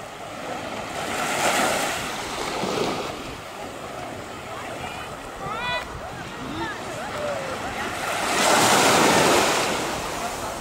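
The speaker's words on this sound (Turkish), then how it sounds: "Şu dalgaların sesini dinleyelim arkadaşlar." Sea waves roll in and break on a busy summer beach at İztuzu, Dalyan, Turkey, with surges swelling around two and nine seconds amid wind and distant beach voices.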